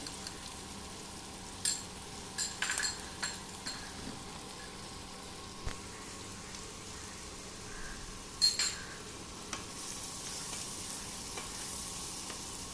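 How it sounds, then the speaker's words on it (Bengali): Onions frying in a pan with salt and turmeric for mutton doi roast, a quiet steady sizzle with scattered sharp scrapes and clicks of stirring. "পেঁয়াজটা একটু ভাজা ভাজা হোক।"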